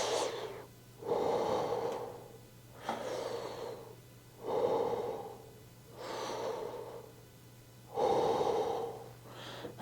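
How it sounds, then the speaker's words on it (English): Big, deep breaths during a mobility breathing drill, with five slow, loud inhale-exhale cycles in a steady rhythm, close to the mic and without speech. "I probably sound like I'm breathing kind of funny"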